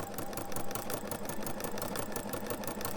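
A sewing machine with a ruffler foot #86 runs steadily, stitching fabric into even pleats, its rapid rhythmic needle clatter continuous and close.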